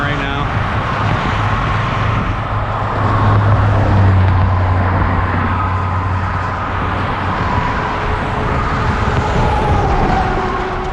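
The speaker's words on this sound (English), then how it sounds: "These cars are flying by me going 50, 60 miles an hour right now." Fast cars rush past on a town road at roughly 50 to 60 mph, a continuous loud traffic roar close by with swells as vehicles pass, heard from a bicycle with wind noise.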